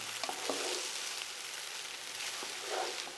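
Rice fries in a pan for mushroom fried rice, a soft continuous sizzle with gentle scraping and stirring sounds close by, no voices.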